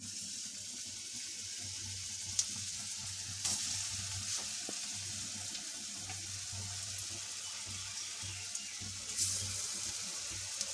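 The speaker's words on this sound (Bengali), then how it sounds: "আমি কোপ্তাগুলা সরিষার তেলে ভাজবো।" Koftas made from green jackfruit fry in mustard oil, giving a steady, close hiss of sizzling with a few faint clinks and soft bumps underneath, no voices.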